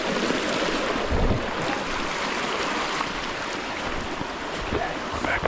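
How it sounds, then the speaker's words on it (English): Wading across a rocky brook during a deer hunt in heavy rain: steady rushing water and splashing close by, with rain and wind noise forming a dense, continuous wash throughout. "Made it across the brook."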